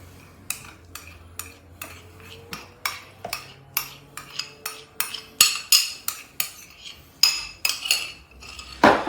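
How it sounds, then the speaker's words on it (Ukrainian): A spoon or whisk beats a curd mass with melted butter in a bowl, a series of steady, repeated knocks and clinks that grow louder and quicker toward the end. "І тепер будемо далі прибивати, щоб вийшла така кремоподібна маса."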